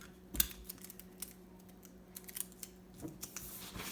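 Adhesive tape pulled off a roll and pressed onto paper, a series of small sharp crackles and ticks over a steady low hum, close and fairly quiet.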